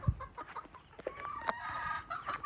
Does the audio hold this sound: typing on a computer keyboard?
no